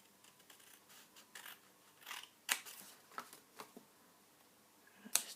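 Scissors snipping paper to trim a small decorative pocket, several quiet, separate cuts with crisp snaps and light rustling, close and alone.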